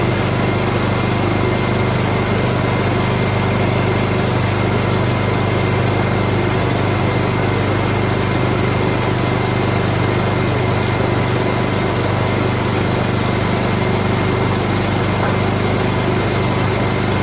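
A Honda EU2000i portable inverter generator engine runs continuously, loud and close, giving a steady buzzing drone with no pauses for the whole stretch.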